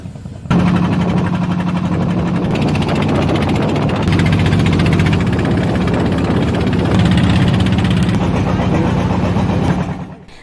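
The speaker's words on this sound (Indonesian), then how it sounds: "tim melanjutkan perjalanan dengan perahu motor selama 3 jam perjalanan" A motorboat engine drones steadily at close range on a three-hour sea crossing to Kangean island, East Java, a loud, unbroken hum with a constant throb lasting about ten seconds.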